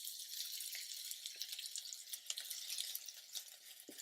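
Vegetables sautéing in a little olive oil in a pan, giving a faint, steady high hiss of sizzling with scattered small crackles and pops throughout.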